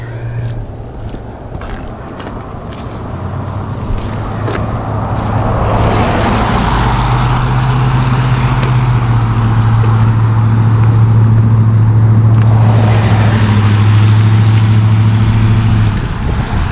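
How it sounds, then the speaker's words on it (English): A vehicle rushes past on a snowy rural road, its engine rumble rising and swelling over several seconds, loud and close against wind noise. "That vehicle sounds like it's in a hurry."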